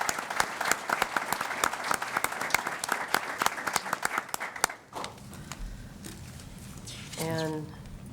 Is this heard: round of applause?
yes